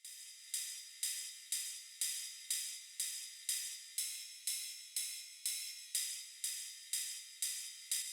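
A ride cymbal sample in a melodic house track, pitched up and down with reverb and auto pan, ticks in a steady, even pulse of bright, airy strikes that sit quietly and alone.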